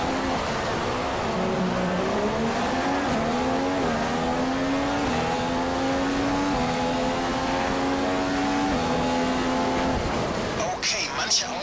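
A Formula 1 Ferrari engine screams continuously in the F1 2015 video game during the Monaco Grand Prix, holding a loud, steady high-revving whine with slight pitch shifts before cutting off near the end.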